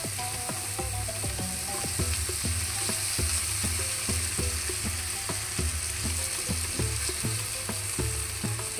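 Chopped tomato fries in a pan for noodle soup, stirred nonstop; a constant sizzle runs under rhythmic, quick scraping strokes of a spatula against the pan, close and steady with no voices.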